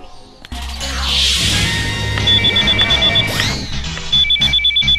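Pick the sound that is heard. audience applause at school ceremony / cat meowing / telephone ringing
telephone ringing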